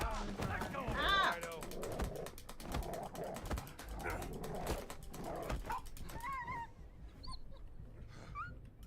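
Game dog from Indiana Jones and the Great Circle barking and whimpering amid gunfire and combat noise, with someone talking over the action.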